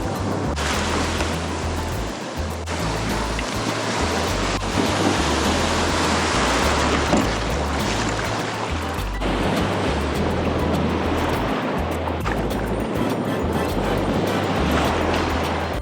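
Winter waves of the East Sea break on the shore in a continuous heavy roar of surf, with rushing swells rising and falling throughout and no talking.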